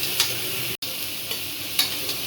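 Ginger, garlic and onion sizzle steadily in hot oil in a pan for tomato rice, with a few scraping stirs of a spatula and a brief dropout in the middle.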